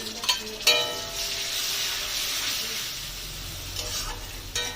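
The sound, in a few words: onion paste added to frying onions in a pan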